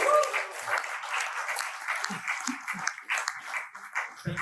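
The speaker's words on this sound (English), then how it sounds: "So please give him an applause for that." Moderate, fairly distant applause from a lunch event audience carries on at a steady level, with murmuring voices mixed in beneath the clapping.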